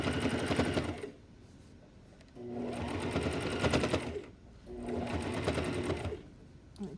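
A sewing machine stitches over the bulky seams of boys' pajamas. It runs in three steady whirring bursts of one to two seconds, separated by brief pauses, and sounds close and moderately loud.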